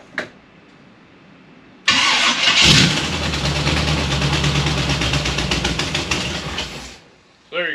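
A small block Chevy V8 with no exhaust manifold gaskets is bump-started, cranking briefly before firing into a loud, rough, close idle with a rapid popping exhaust pulse that runs for about five seconds and then cuts off.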